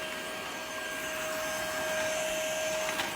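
A cordless stick vacuum with a battery indicator runs at a steady suction setting, giving a constant moderate whir with a thin high whine and no pauses or speech.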